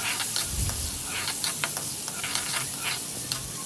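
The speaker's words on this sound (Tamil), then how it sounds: "இப்போ அதோடையே நம்ம வெட்டி வச்சுருக்கிற வெங்காயத்தையும் ஆட் பண்ணிடுங்க." Chopped onions added to hot oil already tempered with mustard seeds, curry leaves and asafoetida for a Tamil sweet potato kuzhambu, sizzling steadily and close with a few stirring clinks over constant hiss.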